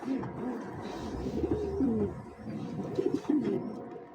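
An almond pigeon in a small loft coos in soft, low, repeated rolling phrases, close by, with faint background rustle and no speech.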